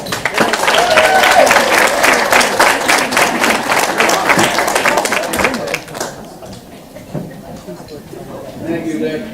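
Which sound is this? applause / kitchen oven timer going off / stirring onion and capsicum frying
applause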